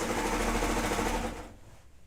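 A serger runs fast and steady, stitching along raw fabric edges, close and loud with a whirring rhythmic hum that winds down and stops near the end.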